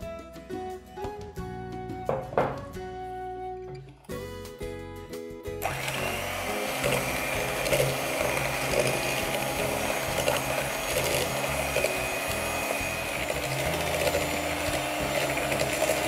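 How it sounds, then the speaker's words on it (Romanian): A few seconds of clattering, tonal kitchen sounds, then an electric mixer starts and whirs continuously and evenly at close range until the end, creaming sugar and butter. "Folosind un mixer, vom amesteca zahărul și untul."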